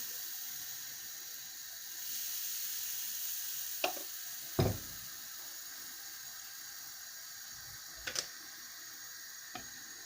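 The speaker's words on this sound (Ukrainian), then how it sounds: "Ну, ще кілька викладу на ту сковорідку для млинців." Steady sizzling of pancake batter frying in a hot pan, with a few brief clinks and taps of utensils scattered through.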